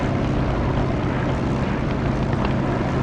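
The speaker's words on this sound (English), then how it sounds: "listen for the engine sound, which picks up in volume as I get close to the runway" A propeller aircraft engine drones close to the runway in the DCS flight simulator game. The roar is dense and steady, with no talk over it.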